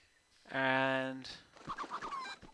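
A chicken in the video game Pippa Funnell Ranch Rescue gives a loud, drawn-out squawk on the ranch, then a run of softer clucks. No one talks over it.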